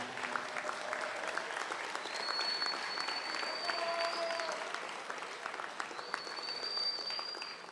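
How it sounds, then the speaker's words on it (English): Full, sustained applause rises from the crowd at a Subiaco Academy school athletic assembly, many hands clapping steadily, with a few brief high tones ringing out above the clapping. "So if y'all would give everybody applause for everybody that's helped out this year"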